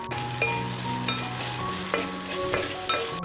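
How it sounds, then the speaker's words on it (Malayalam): Crushed ginger, garlic, curry leaves and green chillies sauté in a pan for a Kerala-style chicken curry, giving a loud continuous sizzle with repeated stirring scrapes close by and no talking. "നന്നായിട്ട് വഴറ്റി ഇഞ്ചി വെളുത്തുള്ളിയുടെ ഒക്കെ ഒരു പച്ചമണം മാറണം"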